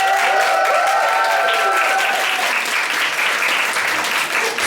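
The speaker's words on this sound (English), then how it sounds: "Can we have a round of applause for drag royalty from Portugal, Uniqueness?" A bar audience at a drag show claps loudly and continuously, a dense roar of applause that holds steady for several seconds, with a few held tones fading beneath it early on.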